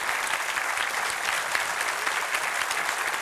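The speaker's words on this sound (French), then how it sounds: "on vous applaudit" An audience at an event for an Ajaccio rowing club applauds. The clapping is dense and continuous, loud and even across the whole moment.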